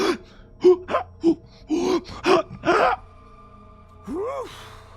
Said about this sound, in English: I could hear gasps.